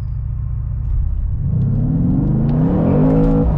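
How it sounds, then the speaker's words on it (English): Mercedes-AMG car of about 500 hp launching hard from a traffic light, a low rumbling idle building into a loud, rising engine roar with climbing harmonics as it accelerates, heard from inside the cabin with no talk. "Why don't we get after it with a nice hard pull at the light here."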